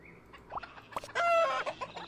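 Chicken clucking and squawking in the School of Dragons video game, a short burst of loud, close clucks with one sustained squawk in the middle.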